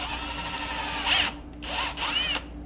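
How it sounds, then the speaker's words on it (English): A drill bit widening a hole in a plastic part of a 1981 Corvette gives two or three short, quiet whirring bursts, each with a brief pitch sweep, separated by pauses over a faint background hum. "So let's get a drill bit. It needs a slightly bigger hole in it."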